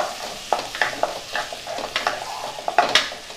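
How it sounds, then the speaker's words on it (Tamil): Chopped onion and green chili sautéing in a pan for mushroom fried rice, a loud close crackle with a quick series of spatula scrapes and taps against the pan. "வெங்காயம் வந்து நல்லா வதங்கட்டும்."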